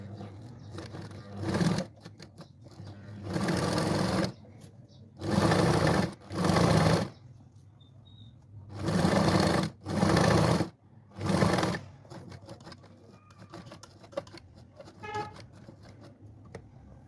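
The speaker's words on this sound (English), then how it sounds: "Then sew along the side edges of the pocket fabric." A sewing machine stitching the side edges of pocket fabric for a zippered tote bag runs in several loud buzzing bursts, each lasting a second or two, separated by quieter pauses with faint handling noises.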